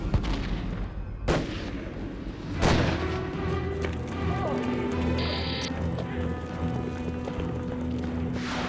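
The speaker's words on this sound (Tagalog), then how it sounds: "Bumawi ang jail officers at pansamantalang nagkapalitan ng putok." Scattered sharp gunshots crack in an exchange of fire between jail officers and escapees during a jailbreak, amid a busy, noisy background, a couple of loud reports followed by rumbling and distant commotion.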